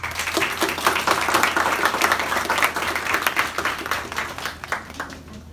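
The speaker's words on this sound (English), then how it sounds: "So could we please give them a big round of applause?" A big round of applause for the board of directors at the CIF 2018 event, a dense crowd clapping steadily for several seconds and thinning out at the end.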